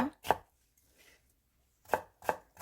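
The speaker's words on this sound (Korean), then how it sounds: "양파 반 개는 채 썰어주세요." Knife chopping half an onion into thin strips on a cutting board, a few crisp close cuts in two short pairs separated by a quiet pause.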